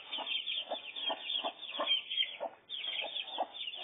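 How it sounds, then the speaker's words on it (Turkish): A black Ankara hen clucks steadily while raising her newly hatched chicks, a rhythmic run of close, soft clucks with faint high peeping over it. "kara Ankara tavuğu yeni civcivlerini büyütmekte"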